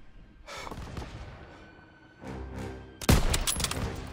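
Gunfire from the World War II video game Call of Duty WW2 comes in bursts, and a sharp, loud volley near the end is louder than the quieter shots before it.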